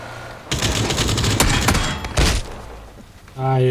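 Gunfire in the battle-royale game PUBG: dense bursts of rapid shots with a couple of sharper, louder cracks, rattling for about three seconds before stopping.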